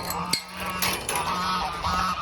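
Four male geese honking loudly and close, harsh repeated calls overlapping in a continuous noisy chorus with a sharp accent early on.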